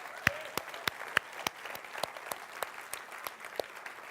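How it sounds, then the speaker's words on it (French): A church congregation claps for a family, sparse, individual hand claps at an irregular but steady pace, each crisp and distinct, with no other sound. "Oui, on peut applaudir."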